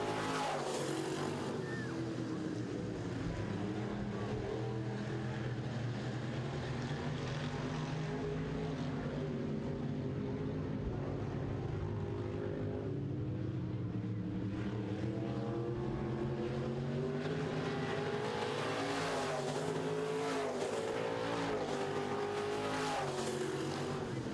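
Midwest modified race cars roar around an oval track late in a heat race, a loud continuous multi-car engine drone that shifts in pitch as cars pass, with no talk over it.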